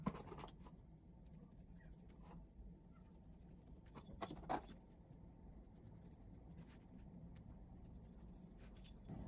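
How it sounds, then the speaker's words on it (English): Pencil drawing a line on paper, quiet scratchy strokes near the middle over low background rumble like passing traffic, with no voices. "now we're going to draw"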